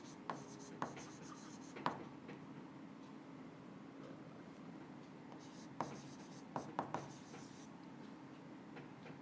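Chalk or marker strokes on a board during a chemistry lecture on coordination compounds, faint scratchy taps and short strokes in irregular clusters over low room hum.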